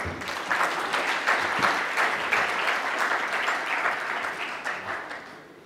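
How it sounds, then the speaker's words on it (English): Sustained applause rises from the audience at a conference session with a Sikh speaker, a thick, even roar of many clapping hands that keeps going for several seconds and tapers slightly at the end. "Please give them a big round of applause."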